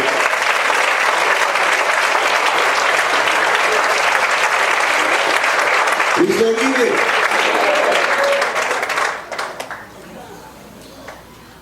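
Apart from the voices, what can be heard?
church congregation applauding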